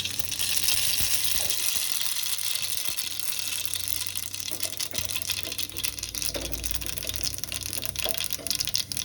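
A dense, steady crackling hiss of tempering seeds spluttering in hot oil, continuous and fairly close, with a few small clicks and pops.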